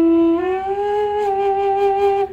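A single sustained Native American flute note played with a second finger hole partially uncovered, breathy and pure with a slight bend upward, close and alone for about two seconds.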